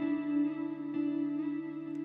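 A guitar in a sleepy lofi track rings out with sustained, reverb-soaked tones from echo delay and Valhalla Vintage reverb, soft and steady, with a light slide near the end.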